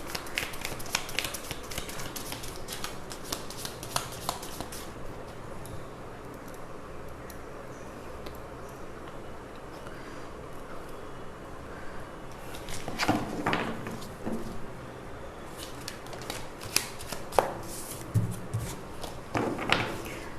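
Tarot cards are shuffled and drawn for a reading, with soft close rustling and light taps of cards, a quieter stretch in the middle and a few sharper handling sounds later.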